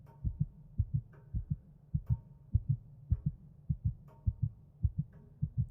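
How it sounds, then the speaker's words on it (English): A muffled heartbeat sound effect in a reading of Edgar Allan Poe's The Tell-Tale Heart throbs steadily in low, paired thumps, repeating about every half second, close and deep with nothing else over it. "But for many minutes the heart beat on with a muffled sound."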